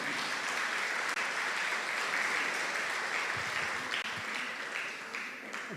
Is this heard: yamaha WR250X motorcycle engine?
no